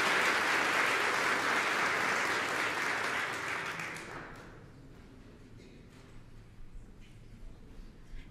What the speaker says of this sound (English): one more time, please, a round of applause for this amazing ensemble